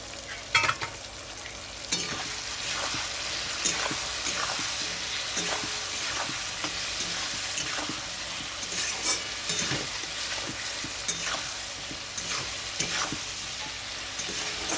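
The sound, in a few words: prawns stir-frying in a pan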